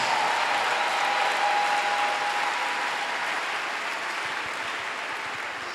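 A church congregation applauds to acclaim Jesus during a sermon, sustained steady clapping from many hands filling the room, loud and even from start to end with no voices rising above it.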